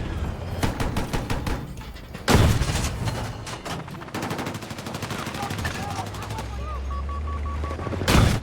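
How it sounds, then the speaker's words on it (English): Rapid bursts of machine gun fire in a third-person video game, loud repeated volleys broken by heavy impact booms, with a voice talking over parts of the gunfire. "Third-person view for aiming the machine gun is so inaccurate."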